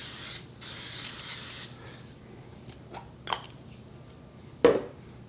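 Vegetable cooking spray hisses from a can into a cast iron skillet in one short, close burst, followed by a few light clinks and taps.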